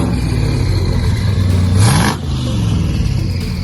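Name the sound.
twin turbo car engine startup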